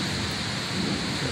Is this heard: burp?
no